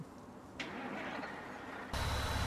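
A Peterbilt semi truck engine in Farming Simulator 19 cranks and turns over, then catches into a loud, deep, steady rumble close by.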